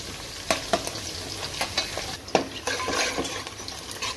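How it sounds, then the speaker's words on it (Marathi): Coriander vadas cook in a pan beside onions and chillies, a moderate sizzle punctuated by repeated spatula knocks and scrapes against the metal in an uneven rhythm. "इथं कोथिंबीर वडे शिजतात"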